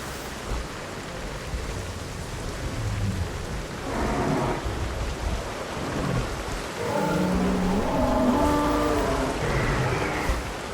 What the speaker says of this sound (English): it's just started to rain annoyingly